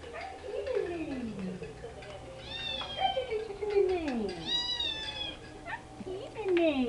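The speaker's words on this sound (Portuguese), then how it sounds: "Ela tá miando pra câmera" A pet cat named Cheetara meows repeatedly toward the camera at close range, several drawn-out, falling cries spaced a second or two apart, while someone speaks softly to her between the meows.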